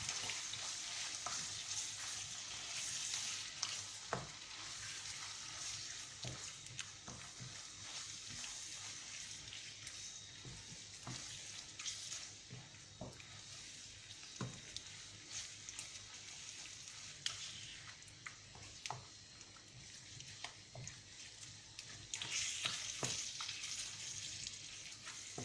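Beef cannelloni sauce being stirred in a pan, a steady soft sizzle under scraping and clinking of the utensil, with brighter bursts of frying near the start and end; no one talks.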